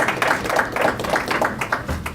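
An audience applauds a panel of speakers at an event, a close, steady patter of many hands clapping in a fairly even rhythm that stays at the same level throughout.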